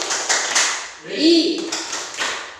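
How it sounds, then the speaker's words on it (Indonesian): A group performs a rhythmic 'tepuk literasi' clapping chant at a literacy training session, giving a short run of sharp taps and claps with voices joining in partway through. "Saya coba lagi, tepuk literasi"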